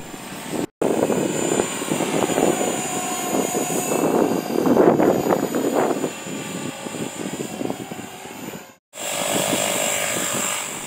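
An EXI 450 flybarless RC helicopter, flown without stabilization, whines loudly and steadily in forward flight, its buzzing rotor and motor rising in the middle and cut by two brief dropouts.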